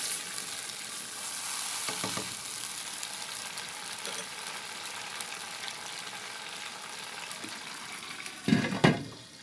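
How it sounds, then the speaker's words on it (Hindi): Masala for Hyderabadi beef yakhni pulao sizzles softly over a medium flame, a low continuous frying hiss with a few stirring scrapes, then a louder clatter near the end. "इस मसाले को हम 10 से 12 मिनट के लिए अच्छे से हम भूनेंगे"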